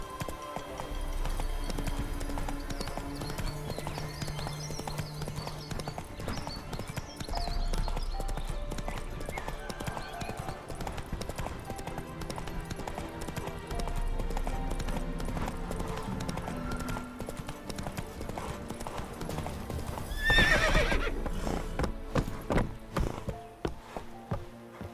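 Roach, the player's horse in The Witcher 3, gallops with steady rapid hoofbeats under game music, then gives a loud neigh near the end.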